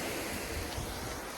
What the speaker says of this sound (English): Putting in a bit of water.